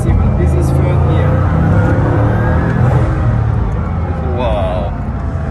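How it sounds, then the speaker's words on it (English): Bugatti Chiron Pur Sport (2021) pulling hard in third gear: a loud, sustained low engine roar that holds steady for several seconds before easing slightly near the end, heard from inside the car with a voice talking over it. "if I am in third gear and I put power, see, well, this is third gear."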